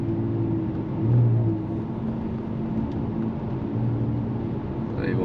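A Kia Stinger GT's engine gives a steady low drone from inside the car, swelling briefly early on, then settling into an even, mellow hum.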